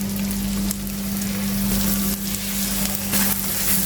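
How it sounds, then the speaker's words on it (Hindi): Peshawari chapli kababs fry in oil on a hot tawa, a steady close crackling sizzle that fills the whole stretch with a constant low hum underneath and no voices. "यहाँ तवे पर कबाब डालते जाएंगे और इसे फ्राई करते जाएंगे"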